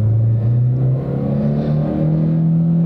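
A car engine revs steadily at high speed under hard acceleration, a loud, close droning roar that holds and rises slightly in pitch.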